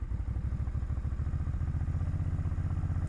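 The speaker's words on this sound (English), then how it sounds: "press the back brake, give it a little gas, and then slowly release the clutch" A motorcycle engine runs close up, pulsing in a steady rhythmic low chug, as the bike pulls away uphill on a steep hill with the back brake held and the clutch slowly released. No talking is heard.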